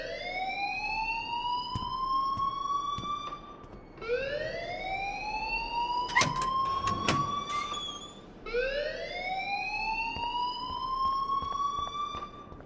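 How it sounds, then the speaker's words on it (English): A repeating school alarm in the video game Life Is Strange wails in three long rising sweeps, each climbing and then holding, with brief sharp tones and clatter in the middle sweep and steady background hum throughout. "please turn off that alarm since that's your job."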